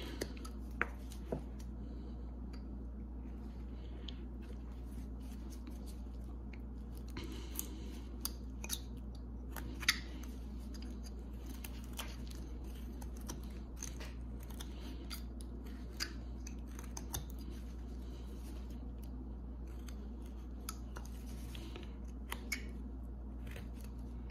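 A knife makes small carving cuts into an eggplant, faint clicks and soft slicing ticks scattered over a low steady hum, quiet and close with no talking.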